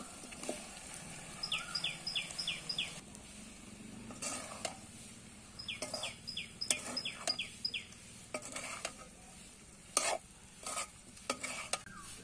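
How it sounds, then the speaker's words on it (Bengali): Fried potato and raw jackfruit being stirred into cooked spices in a pan, with intermittent spoon scrapes and clinks over a low sizzle, fairly faint and close, while birds chirp faintly in the background. "এখন হচ্ছে ভাজা আলু আর ভাজা কাঁঠাল কষিয়ে নেওয়া মশলার মধ্যে দিয়ে দিব।"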